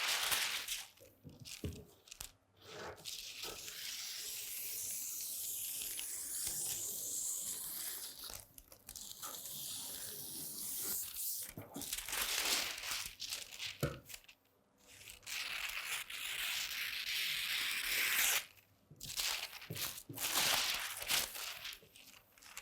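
Scissors cut through fabric along a pattern line for the back piece of wide-leg pants, giving repeated crisp snipping and rustling cloth sounds in bursts with short pauses, close and fairly quiet.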